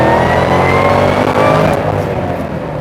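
A supercharged Ford Mustang GT500 pulls hard in second gear, a loud, close engine roar with rising supercharger whine, holding strong before easing off slightly at the end.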